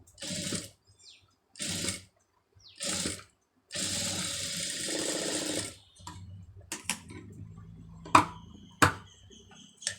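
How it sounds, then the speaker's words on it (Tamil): Sewing machine stitching a two-layer lace trim onto a sleeve, running in several loud close bursts separated by pauses, followed by quieter clicks and handling sounds of the fabric. "இப்போ இதை வந்து தையல் போட்டுருங்க"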